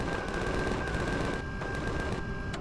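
Turret gunfire on a snow planet in the space survival game Empyrion Galactic Survival, a dense, continuous rattle of rapid automatic shots, loud and close, with a steady tone running beneath and no talk.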